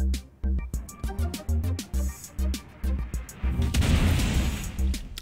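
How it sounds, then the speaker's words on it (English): A size four missile strikes an Aquila ship in a space video game, bringing a string of rhythmic deep booms followed by a louder, longer explosive rumble with crackling debris. "Next is one size four missile."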